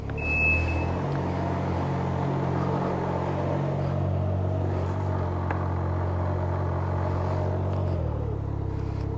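A 2021 Can-Am Ryker 900 three-wheeler idles with a steady low engine rumble, a brief beep sounding at the start, then the motor note shifts and fades as it reverses and pulls away.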